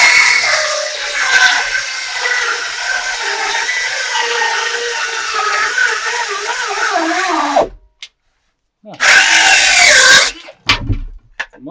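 A cordless 12V circular saw fitted with a Diablo blade cutting through wood, a loud continuous whining buzz that drops away abruptly at the end of the pass, then a short second burst of cutting.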